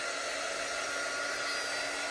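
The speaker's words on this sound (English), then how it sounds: "I'm gonna go ahead and dry this real quick with my dryer" A hair dryer blows steadily and loudly on a vintage-style craft project, a continuous broadband whoosh with no pauses and no voices.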